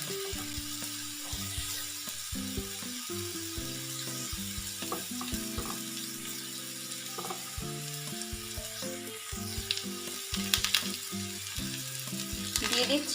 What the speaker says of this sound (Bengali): আলুগুলো কড়া করে ভাজা হয়ে গেছে, এবার আমি দিয়ে দেব সেদ্ধ করা মূলো